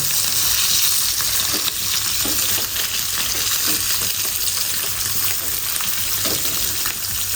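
Mackerel (bangda) fries in oil in a pan with a steady, dense sizzle that stays loud and close throughout, broken by faint stirring scrapes.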